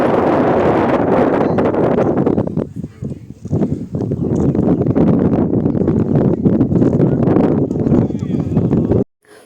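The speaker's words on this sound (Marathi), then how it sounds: "तर इथं पाण्याच्या ठिकाणी ना वाऱ्याचा आवाज भरपूर असा येतो" Strong wind at a lakeside boating spot at Bhandardara Lake, buffeting the microphone as loud continuous rumbling gusts that dip briefly and then stop abruptly near the end.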